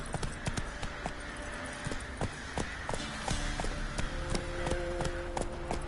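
Hooves of Roach, Geralt's horse in The Witcher video game, clip-clop at a steady gait, close and fairly loud, with a few sharper knocks over a constant background bed and no talking.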